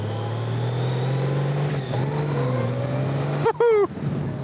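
Honda GoldWing motorcycle engine humming smoothly and close while pulling away gently, a steady low drone with light pitch shifts, then a brief sharp rising sound near the end.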